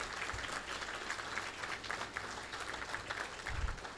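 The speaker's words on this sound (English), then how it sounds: "So give them a big round of applause." Steady applause fills the room at an anniversary awards reception, a dense even patter of many hands continuing throughout at moderate loudness.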